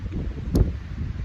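Strong wind blowing outdoors at a roadside pull-off, a short low rumbling gust buffeting the microphone close up, with one brief louder thump.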